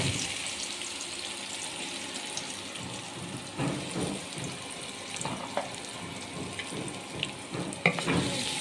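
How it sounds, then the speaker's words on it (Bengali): Onions sizzle in hot oil in a home kitchen, a quiet, steady frying hiss with occasional soft clinks and stirring scrapes from utensils. "লাইট গরম হয়ে গেছে, আমি পেঁয়াজ দিয়ে দিচ্ছি।"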